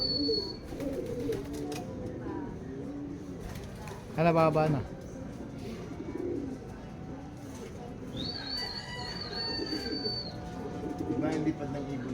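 Racing pigeons coo in repeated soft rolling phrases close by at a loft in Carmona, Cavite, with a brief flutter and a couple of thin whistles, while someone talks over them.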